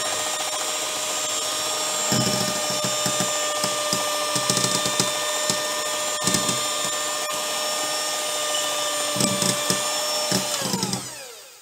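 An electric mixer whirs steadily in a bowl as flour is beaten into cake batter, a loud continuous motor drone with intermittent rattling bursts, winding down at the end; no talking.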